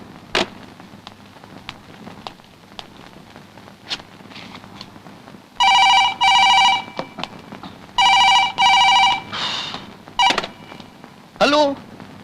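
In a movie scene, a telephone is dialed with scattered clicks, then rings loudly in two long electronic bursts with a shorter trill near the end, while voices speak in between.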